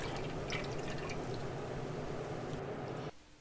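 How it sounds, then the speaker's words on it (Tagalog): Coconut milk poured steadily into a large wok for a Filipino biko rice cake, a continuous close liquid pour that stops abruptly near the end. "Tapos, transfer natin yung ating coconut milk sa isang malaking kawali."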